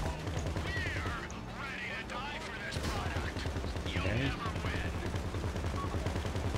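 Gunfire in the video game Grand Theft Auto V: rapid bursts of shots layered over a busy mix of engine rumble and voices, loud throughout.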